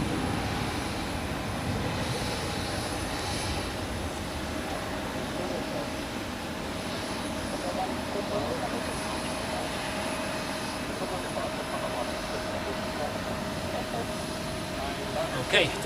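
An Edelweiss Airbus A350 on final approach to runway 14 at Zurich Airport produces a steady, broad jet engine roar that holds loud throughout.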